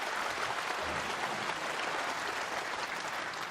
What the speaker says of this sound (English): Encouraging applause from his legion of fans.